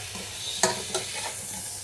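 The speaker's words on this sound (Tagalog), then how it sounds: "Ayan o, nagluluto tayo ng butter shrimp" Butter garlic shrimp fries in a pan, a bright sizzle with a couple of sharp stirring scrapes over a short stretch.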